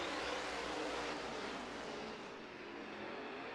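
Late model race cars roar around a tight quarter-mile dirt track at Off Road Speedway as a heat race goes green, a dense, steady wall of engine noise from a bunched field that eases slightly toward the end.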